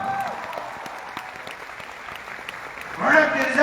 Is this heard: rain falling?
no